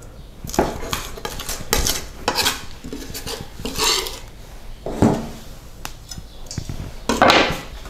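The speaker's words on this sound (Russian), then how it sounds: "Чеснок. Превращаем в пюре." Garlic is mashed into a puree in the kitchen with a metal utensil, producing close, loud scraping and grinding strokes against a hard surface in an irregular rhythm with sharp metallic clinks.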